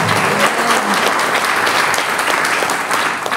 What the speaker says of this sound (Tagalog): Palakpak na malakas sa Lord.